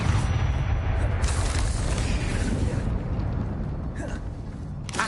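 An Incendio fire spell cast in the Hogwarts Legacy video game, heard as a loud, dense, rumbling whoosh of flame and booming bursts that fill the whole stretch.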